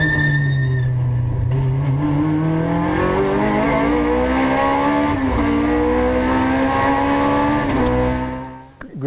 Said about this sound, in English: Now this is a proper race car.